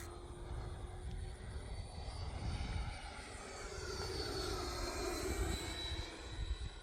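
An E-flite Viper 90mm electric ducted-fan RC jet flies at a model airfield, its whooshing whine rising and sweeping in pitch as it passes, fairly faint and distant, heard alone without talk.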